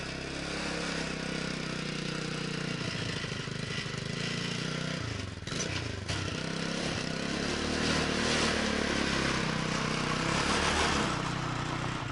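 Motor tricycle engine running continuously while riding over bumpy ground outside a village, steady loud motor drone with rougher jolts midway.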